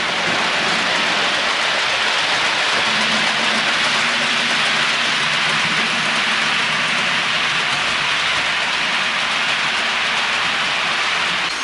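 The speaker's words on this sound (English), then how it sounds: "excuse the noise as I've got the track cleaning wagon going to just vacuum up the loose crap that's on the tracks." A model railway track-cleaning vacuum wagon runs along the layout's loops, giving a loud, steady broadband whooshing hum that continues unbroken for the whole stretch with no talking.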